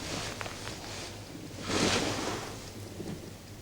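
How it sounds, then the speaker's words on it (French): A deep roll of thunder swells in the middle, a rumbling burst over steady wind and rain-like hiss. "C'est un roulement de tonnerre."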